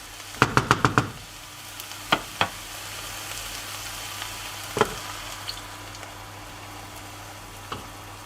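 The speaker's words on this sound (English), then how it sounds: "And then we're going to immediately add in the veggie broth" Vegetable broth hitting a hot pan with a soft steady sizzle, opening with a quick burst of clattering knocks from a spoon or pan, then scattered single knocks over the continuous frying hiss.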